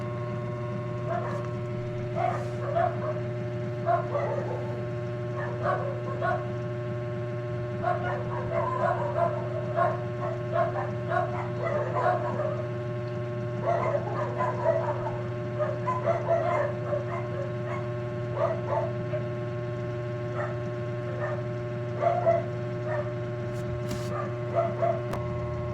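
Neighbours' dogs bark and yip in scattered bursts at a distance, faint over a constant low electrical hum, with quiet gaps between the volleys.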